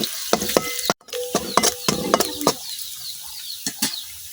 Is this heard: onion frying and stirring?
yes